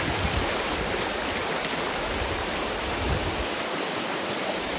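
A river runs steadily nearby, a loud, continuous rushing of flowing water, with no voices heard over it.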